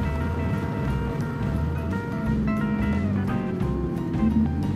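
Small BMW G310R motorcycle ridden along a winding road, its steady engine drone and harmonic whine holding constant with a slight pitch rise, close and continuous under wind rumble.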